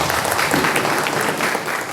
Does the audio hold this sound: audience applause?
yes